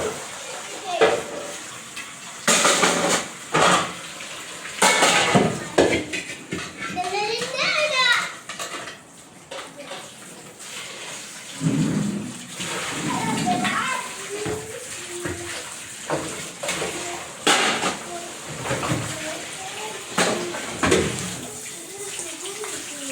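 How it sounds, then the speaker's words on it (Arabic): Dishes are scrubbed by hand under running water in an Egyptian home kitchen, with a tap flowing, clattering pots and intermittent splashes, while a mother and daughter talk and bicker over the sink. "دعكنا المواعين بايدينا يا زمن."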